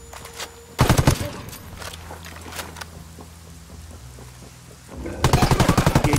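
Rapid automatic gunfire from a firefight in Ghost Recon Wildlands comes in two loud, clustered bursts, one early and one at the end, with quieter scattered shots and low rumble between them.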